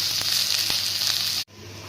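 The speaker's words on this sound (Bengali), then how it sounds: "এখন রসুন, কাঁচা লঙ্কা দিয়ে দিলাম। এখন এটাকে ভালো করে ভাজতে হবে।" Garlic and green chilli fry in oil for a masoor dal tadka, a bright steady sizzle with a few soft stirring taps, cutting off abruptly to a quieter hiss near the end.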